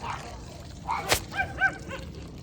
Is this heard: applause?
no